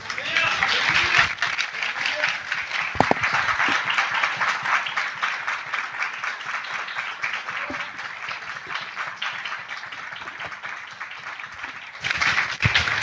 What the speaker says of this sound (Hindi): जोरदार जोरदार तालियां